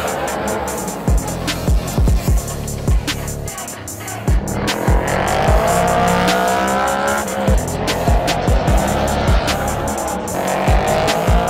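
A NASCAR race car laps the tight temporary track at the Los Angeles Coliseum, its loud engine revving and dropping hard through the corners, with sharp tire squeals and skids repeating close by over about twelve seconds.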